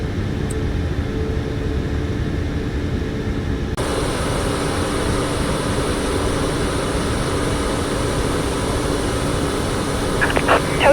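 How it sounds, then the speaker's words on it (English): Airliner engine spooling up in a flight simulator game on a Phoenix to Honolulu route, a steady low drone that rises in intensity partway through and holds as a continuous whine with no talk. "Good engine start, right engine, starting left engine."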